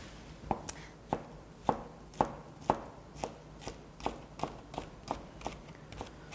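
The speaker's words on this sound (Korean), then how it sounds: "그래서 이렇게 안쪽에서부터 칼질을 한다." A kitchen knife cuts vegetables into thin strips on a cutting board, working from the inner side, giving a steady run of crisp, evenly paced taps, close and clear over a quiet background.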